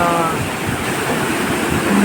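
Rainwater from a heavy downpour roars steadily over the big lake embankment at Damayapally village, a loud, unbroken rushing wash close by. A voice speaks over it.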